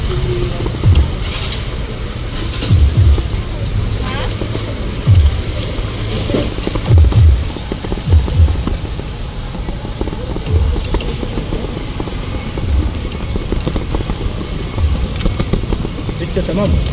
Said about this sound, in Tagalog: sakay na lang tayo ng padjak.